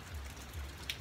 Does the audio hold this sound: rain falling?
yes